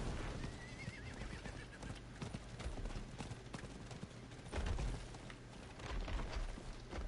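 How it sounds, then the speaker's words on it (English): A horse in Diablo IV gives a whinny near the start, then keeps up a steady run of clip-clopping hooves over a dense, loud game soundscape throughout. "So what happens if I get on a horse?"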